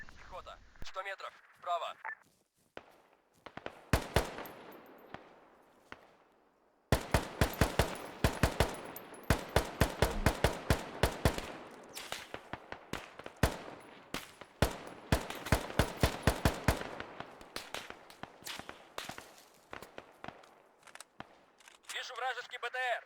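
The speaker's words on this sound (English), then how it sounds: "Alright, I'll let you watch the firefight." Gunfire rattles through a firefight in the video game Arma 3, with bursts and single shots in dense clusters and brief lulls, while voices talk under the shooting.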